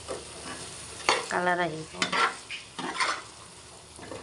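Green chillies fry with Kashmiri red chilli powder in a pan, a spatula scraping and stirring in short bursts over a low sizzle, while a voice speaks briefly.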